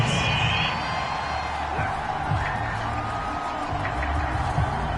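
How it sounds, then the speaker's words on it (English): A stadium crowd in a PS4 football video game boos and jeers in a steady, dense wash after a penalty flag on third down, with faint whoops rising through the constant roar. "Well, the crowd doesn't like that."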